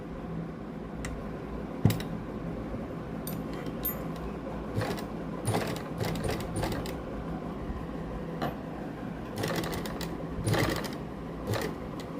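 A sewing machine stitches lace onto a sleeve in short bursts of rapid mechanical whirring and ticking, separated by pauses and a few clicks, fairly close and with no voices.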